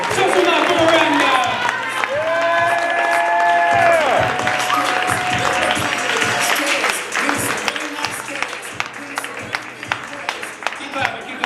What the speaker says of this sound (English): start clapping right now for our sacrificial poet.